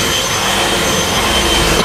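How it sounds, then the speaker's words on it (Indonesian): An electric mixer beats pancong batter in a steady, loud, unbroken whir that stays close and even throughout, with no talking. "Ini mixer lagi ya? Mixer lagi."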